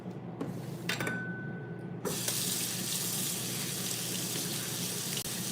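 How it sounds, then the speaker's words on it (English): Tap water runs from a kitchen faucet as meat is rinsed under it, a steady hiss of flowing water that starts after a few faint clinks and continues evenly at close range. "I'm gonna rinse it."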